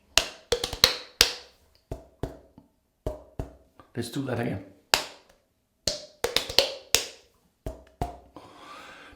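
Yaqi Ultima Bolt razor making a series of crisp, short scraping strokes, some in quick clusters and others spaced apart, close and clear, with a brief stretch of talking partway through.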